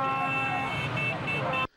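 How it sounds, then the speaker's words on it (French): Steady blaring motorcycle horns honk continuously during a street march, a dense overlapping chorus, loud and close, cutting off abruptly near the end. "Sous les sons des klaxons de moto"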